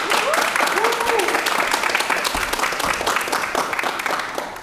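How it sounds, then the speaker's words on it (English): An audience at a Shakespeare festival event applauds steadily and loudly, with dense, continuous clapping from a crowd that lasts the whole stretch and a few voices mixed in. "May I please introduce to you, with a warm round of applause, Dr. Jeffrey Ruff."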